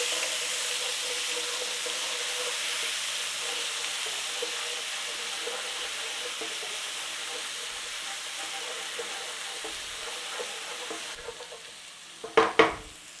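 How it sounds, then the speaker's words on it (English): Garlic ginger paste and cumin seeds fry in hot oil with a steady, close sizzle that runs without pause, then fades near the end and gives way to a few sharp clinks of a utensil. "in with our garlic ginger paste, little whiz"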